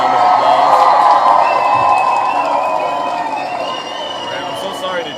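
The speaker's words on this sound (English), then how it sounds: "You all in the audience deserve a huge round of applause." A crowd of audience members cheers and applauds loudly, with whoops and whistles rising over the clapping, then the noise gradually fades toward the end.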